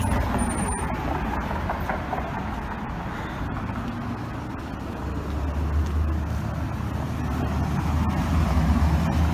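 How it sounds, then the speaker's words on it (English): Steady roar of heavy street traffic on a busy road, with trucks and buses rumbling past continuously and loudly throughout, no talking. "You can probably tell by the noise why I'm never gonna live on a busy street ever again."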